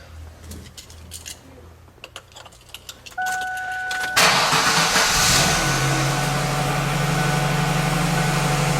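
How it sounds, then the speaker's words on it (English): Keys jingle, a warning chime sounds, then a 1999 Ford Taurus engine cranks after a fuel pump replacement and catches with a loud burst before settling into a steady idle hum. "I'm going to start the car and let it run"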